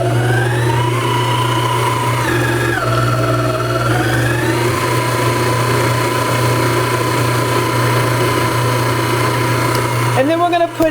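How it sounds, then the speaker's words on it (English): Cuisinart SM-55 5.5-quart stand mixer creaming two sticks of softened butter, a steady loud motor whine with shifting pitch running throughout, cutting off near the end. "So in our bowl of our mixer, we have 2 sticks of butter. And we're going to go ahead and cream these a little bit."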